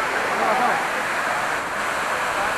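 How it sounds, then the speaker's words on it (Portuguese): Rushing waterfall reached after a trail ride on a Crypton motorbike, a steady broadband roar of falling water filling the scene at close range. "Olha só essa cachoeira, hein?"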